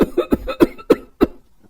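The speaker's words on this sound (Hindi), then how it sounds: "खांसी आ रही, मैं पानी लेकर आऊं?" A series of six sharp coughs in quick succession, close and loud, then a faint trailing breath.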